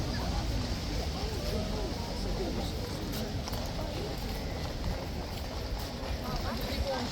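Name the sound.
King's Horse guard horses' hooves returning through Horse Guards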